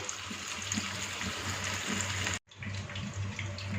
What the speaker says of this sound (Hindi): चपली कबाब को एहतियात से ऑयल में डाल देंगे।